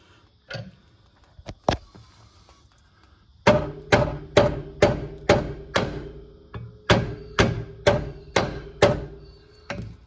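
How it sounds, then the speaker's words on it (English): A rubber mallet strikes a rear suspension part on a Jaguar XJ-S, first with a few scattered knocks and then a steady series of about a dozen sharp, evenly spaced thuds close by, with no talk. "just with a rubber mallet. That through and get it loose."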